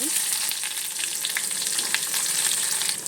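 Chopped onions with curry leaves frying in hot oil for a North Karnataka brinjal curry, a steady close crackling sizzle with scattered pops and light stirring, no talk.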